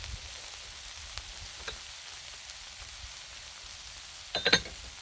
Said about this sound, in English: And we'll add some celery. That's going to take a little time to cook.